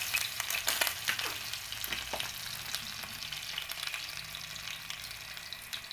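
Garlic sizzles in hot cooking oil, a steady crackling fry with a few louder pops and stirring scrapes early on, close and without talk.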